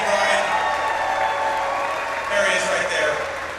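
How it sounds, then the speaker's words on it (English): Rally crowd applauding and cheering at a political event in Holland, Michigan, a loud, sustained roar of clapping with a brief swell partway through. "Give Brian a big round of applause."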